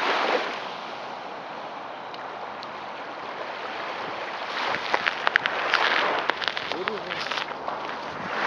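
Black Sea waves wash steadily onto the shore at Anapa, a broad continuous surf roar with wind noise and what may be faint voices nearby.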